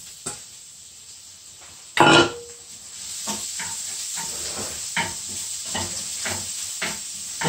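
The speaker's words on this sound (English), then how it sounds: "I've got one chopped medium-sized onion. So we're going to saute that." Chopped medium-sized onion hitting hot oil: quiet at first, then a sudden loud sizzling burst, settling into a steady sizzle with spoon scrapes as it is sautéed, no speech.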